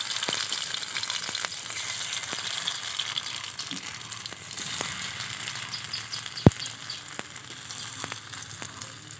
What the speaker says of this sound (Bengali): তো তেলটা গরম হয়ে গেছে, এখন দিয়ে দেবো কালো জিরে।